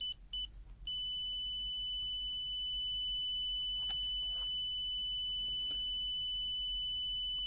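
A TASI TA804B smart multimeter gives steady high continuity-test beeps, a few short chirps followed by a long continuous tone with brief interruptions, close and clear over a quiet low hum.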